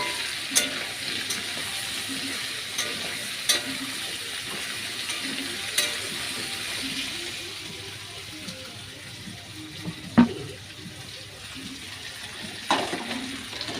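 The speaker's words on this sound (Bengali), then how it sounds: "আমি একটু পেঁয়াজ দিয়ে দেবো একটু করে।" Onions frying in a pan for a vegetable dish, a steady sizzle that fills the background throughout, with occasional clinks and stirring scrapes, under a person talking now and then.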